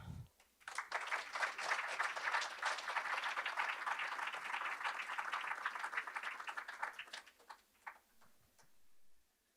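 An audience applauds at a sports writing medal ceremony, a broad burst of many hands clapping that swells quickly, holds steady for several seconds, then thins out into scattered claps.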